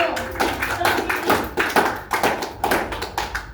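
A small group claps for the first team in a classroom, close and loud with irregular sharp hand claps spread across the stretch.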